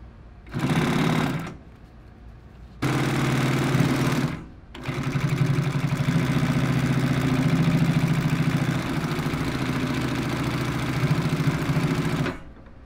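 A Consew 255RB3 industrial sewing machine stitches upholstery leather in loud, steady motor-driven bursts: two short runs, then a long continuous stretch, heard up close with no talk.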